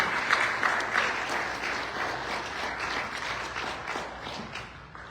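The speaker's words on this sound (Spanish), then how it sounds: "Saludamos con un fuerte y caluroso aplauso esta alta distinción" Warm, sustained audience applause at a law association award ceremony honoring a criminal law professor with a medal, steady dense clapping from a hall crowd, moderately distant and without speech.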